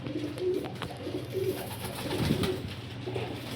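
Pigeons cooing close by in a loft at a pigeon market, several soft repeated coos over a low background murmur, with no talk.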